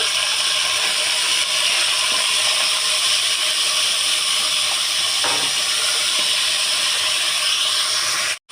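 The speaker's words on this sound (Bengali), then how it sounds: "এই জন্য প্রেসার কুকারে রান্না করছি যাতে খুব দ্রুত রান্নাটা শেষ হয়ে যায়" A pressure cooker on the stove, cooking meat for haleem, gives off a loud, steady hiss of escaping steam that runs unbroken and close throughout, with no talking.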